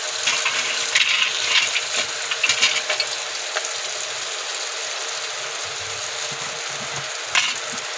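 Soybeans and Schezwan rice masala going into rice frying in a pan, with a loud, steady sizzle and hiss throughout, a few stirring scrapes and knocks early on and a brief clatter near the end, no talk.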